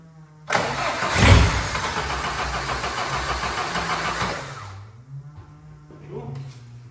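A Nissan car engine, with WD-40 sprayed into the intake, catches abruptly and runs roughly for about four seconds before dying. Quieter sputters and low voices follow.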